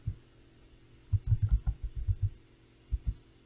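Keys on a computer keyboard click in a quick burst of a dozen strokes, pause, then two more taps follow, close and fairly quiet, with no talk.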